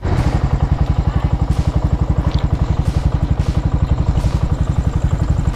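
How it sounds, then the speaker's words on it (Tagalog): A motorcycle engine runs close by with a fast, even chugging pulse, loud and steady, with occasional faint background noises over the engine. "Ito yung motor. Motor."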